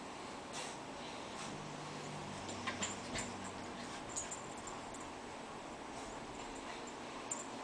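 Small puppies resting indoors in a house give faint, soft whimpers and brief yips over a steady background hiss, with a few tiny sharp squeaks scattered through.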